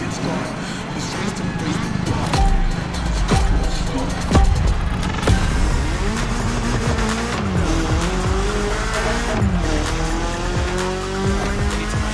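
A BMW M3 in The Crew Motorfest racing game revs hard with shifting engine pitch and sustained tire squeal through corners, loud and continuous.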